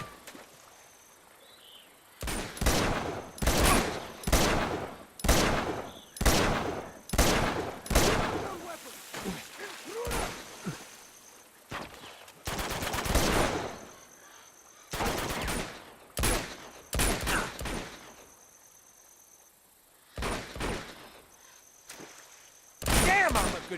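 Heavy gunfire in the Uncharted action game: repeated loud bursts and volleys of shots spread across the stretch, some long rattling strings, with short gaps between them and no speech heard.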